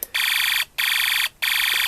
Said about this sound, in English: the only time you ever use select 2 is to make this machine gun sound